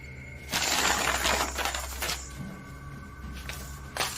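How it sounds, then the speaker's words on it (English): Small hard objects clatter and rattle onto a hard floor in a loud burst, followed by a few scattered lighter clicks and a final tap. "pencils rattle from it"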